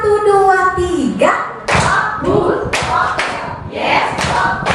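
Young children at a kindergarten clap their hands together in a counting clap game, sharp claps landing between a teacher's sung and spoken counting and the children's chanted replies.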